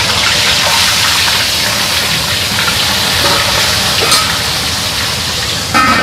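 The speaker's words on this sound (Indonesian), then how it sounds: "ini goreng ikan ini" Fish fries in hot oil, giving a loud, continuous sizzle and hiss that barely changes across the whole stretch, with a faint clink near the end and no voices.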